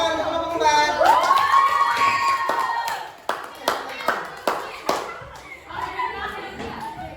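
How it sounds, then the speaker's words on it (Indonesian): A classroom group giving a round of applause for group 4, a few scattered, uneven claps that follow a loud sliding tone and speech, with light murmuring around them. "kita tepuk tangan untuk kelompok 4"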